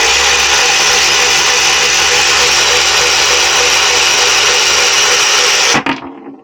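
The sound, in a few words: 49cc Razor MX350 engine running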